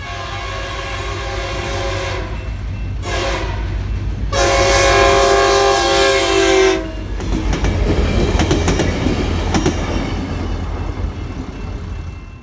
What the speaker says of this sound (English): Before Amtrak came, a Railrunner passed.